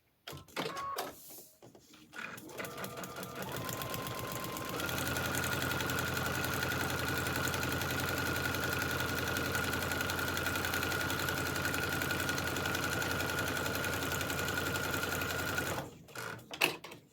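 Sewing machine stitching a foundation paper piecing seam for a quilt block, with a few brief starts and stops at first, then one steady, continuous mechanical whir running close and loud for about eleven seconds before it stops.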